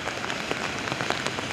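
Rain falling steadily during a wet autumn day in Turkey's Marmara region, a soft continuous patter with scattered sharper drops, close and moderately loud, with no voices over it.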